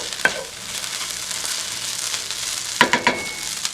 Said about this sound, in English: I'm giving this rice maybe a minute or 2 to crisp up.